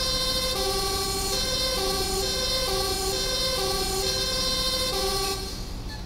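Fire truck siren in the video game GTA 5, a loud steady two-tone wail of stacked harmonic tones repeating in a regular hi-lo rhythm, close and continuous, with no talk.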